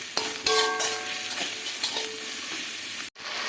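Salt and turmeric are stirred into food frying in a pan, a steady close sizzle with a few scraping strokes and a brief clink of spoon near the start, then a short gap before the frying resumes.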